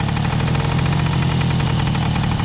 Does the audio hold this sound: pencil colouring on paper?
no